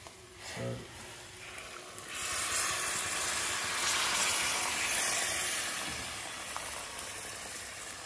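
Water pours into a hot pan of lobster and king prawn with garlic and chilli and erupts into loud, steady hissing sizzle that gradually settles, with a brief clatter at the start.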